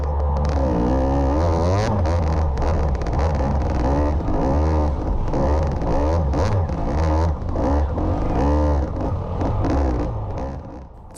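A KTM dirt bike engine in a harescramble race revs and drops repeatedly, loud and close beside the exhaust, with throttle blips and popping as it climbs and falls throughout.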